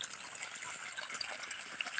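Irrigation water runs into a one-acre wheat field in a steady, soft rushing wash with faint gurgles, fairly close and unbroken for the whole moment.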